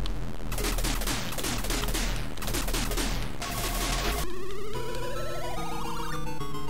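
Rapid bursts of synthesized arcade shooting from the Tron arcade game, loud and continuous, with sweeping electronic tones taking over in the latter part.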